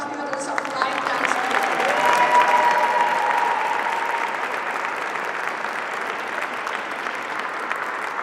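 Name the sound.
applause for high school lion dance students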